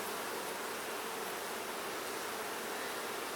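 Honeybees swarm-buzz steadily from an open, queenless hive under inspection, a dense, even hum filling the whole stretch at close range with no talk.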